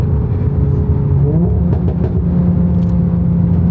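A five-cylinder VW Golf 7 R with SAR Turbotechnik tuning pulls hard in second gear, its engine note rising steadily and filling the cabin without a break, with no voices over it.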